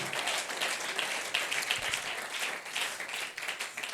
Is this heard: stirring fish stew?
no